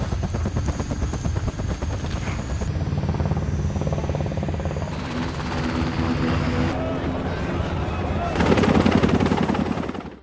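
A helicopter's rotor thumps loudly and steadily in an action film, layered with bursts of gunfire and dramatic action-scene noise.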